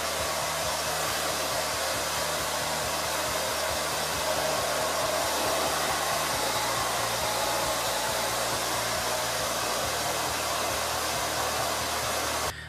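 A hair dryer blows steadily on styled hair for the whole stretch, a loud, close, constant airy roar with slight shifts in its low hum and no talk.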